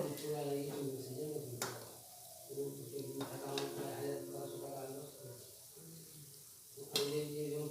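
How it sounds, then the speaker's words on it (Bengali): Langcha sweets deep-frying in hot oil, a soft steady sizzle under a voice speaking throughout, with a few brief clinks of a spatula against the pan. "এইভাবে আমি মিষ্টিগুলো লাল করে ভেজে নেব"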